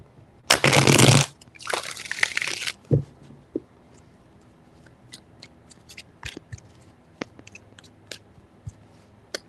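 Tarot cards are riffled in two quick, close bursts, followed by soft scattered taps and light handling sounds as the deck settles, with no speech.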